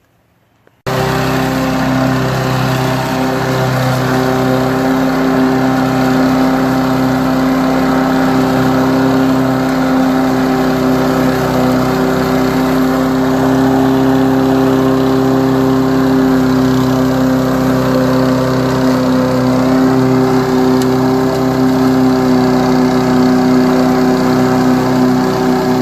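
A Honda HRA215 push lawn mower with a freshly cleaned carburetor runs steadily at a close, loud, even idle, its engine drone holding constant for the whole stretch after a sudden start.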